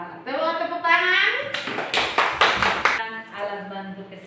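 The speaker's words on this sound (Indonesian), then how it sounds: "Iya, tepuk tangan." Schoolchildren in a fifth-grade classroom clap their hands in a short burst of sharp, rhythmic claps, framed by a voice speaking before and after.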